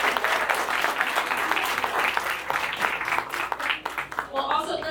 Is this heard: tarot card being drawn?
no